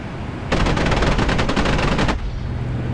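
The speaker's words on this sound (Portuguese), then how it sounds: "Oh, acertei alguns tiros" An aircraft cannon fires in a DCS flight combat video game, a loud rapid continuous burst of about one and a half seconds that cuts off abruptly, leaving engine rumble behind.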